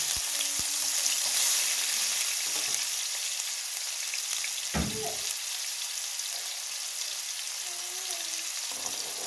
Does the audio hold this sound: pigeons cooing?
no